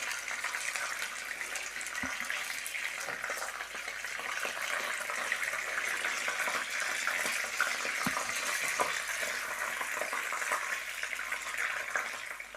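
Chicken seekh kabab rolls frying in hot oil, a steady close-up sizzle with soft crackles and a couple of faint clinks, continuous throughout with no one speaking.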